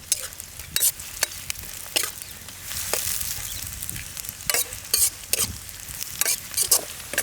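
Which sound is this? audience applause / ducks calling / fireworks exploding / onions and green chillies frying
onions and green chillies frying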